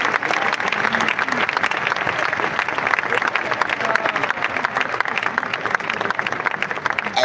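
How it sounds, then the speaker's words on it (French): A church congregation applauding loudly and continuously, dense rapid clapping from many hands filling the space, with voices mixed in beneath the applause. "Acclame très fort pour le Seigneur."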